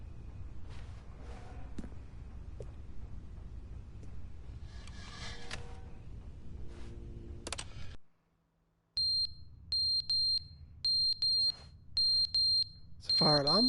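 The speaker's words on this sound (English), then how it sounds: "It's a fire alarm." Smoke-style fire alarm in the video game The Stanley Parable, sounding as loud repeated high electronic beeps in evenly spaced bursts after a brief silence, following a stretch of quieter game sounds.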